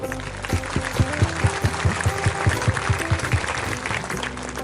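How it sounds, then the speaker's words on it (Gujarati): Crowd applause welcoming Kapil Swami at a Swaminarayan idol-installation ceremony, a dense steady clatter of clapping mixed with a regular, rhythmic low thumping beat throughout. "એકવાર હાથ ઊંચા કરી કપિલ સ્વામીને તાળીઓના નાદથી બધા વધાવો"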